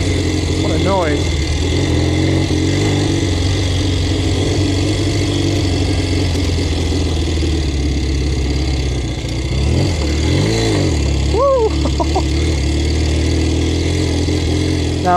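An adventure motorcycle on off-road tyres runs outdoors in fields at a bike festival, its engine holding a steady, loud, close idle with a brief rev swelling and falling near the end.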